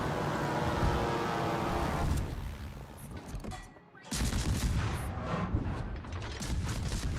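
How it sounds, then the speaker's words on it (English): A player firing in a video game produces rapid, sustained bursts of shots that fade into a quieter stretch near the middle and then resume at full strength, with the firing dense and close throughout. "I am detected while I shoot."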